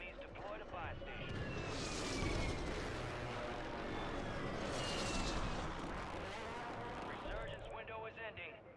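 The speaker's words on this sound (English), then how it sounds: "Hostile advanced UAV deployed." Call of Duty game audio with a hostile advanced UAV aircraft overhead, a loud sustained roaring drone that swells twice, mixed with explosions and gunfire under a game voice announcement.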